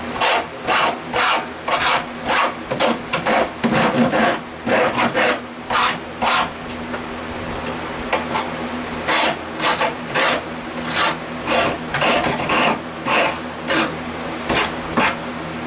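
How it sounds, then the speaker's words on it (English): Rhythmic scraping of sandpaper stapled to a wooden block on wood, a steady series of short back-and-forth rasping strokes, close and fairly loud, with brief pauses between runs. "take our little sanding paper here that I made by stapling a piece of sanding paper to an old block"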